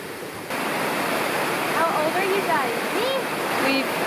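A waterfall in Lombok pours with a steady, loud rushing hiss that swells after a brief moment and holds constant, while birdsong chirps faintly over the roar.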